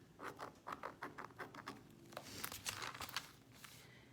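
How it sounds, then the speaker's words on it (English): Quiet crisp snipping and rustling as scissors make a series of short irregular cuts through crinkly tulle fabric, close by with no voices. "So you're going to use your scissors just to cut it across."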